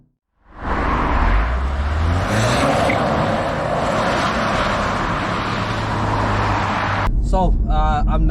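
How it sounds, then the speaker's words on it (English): A 2018 Jaguar F-Type 2.0L four-cylinder drives along with its exhaust heavily muted, giving a steady broadband road and engine drone at moderate level. A voice begins talking just before the end. "just think about how muted the exhaust is"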